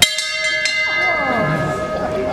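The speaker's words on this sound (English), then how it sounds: "If you hear that bell" A bell rung to tell candidates at an all-candidates meeting that their speaking time is up: several quick, bright, close strikes, then a long ringing tone that lingers and slowly decays.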